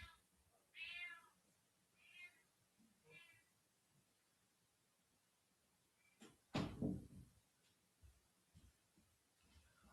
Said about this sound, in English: she doesn't love being inside, so she is meowing